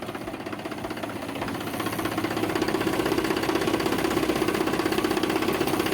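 An old tractor's diesel engine runs nearby with a steady, rough rumble and rapid rhythmic knocking that swells slightly louder after the first couple of seconds.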